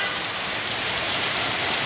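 Heavy rain pouring down in Salalah, Oman, a dense, continuous hiss of drops striking surfaces, loud and steady throughout with no voices.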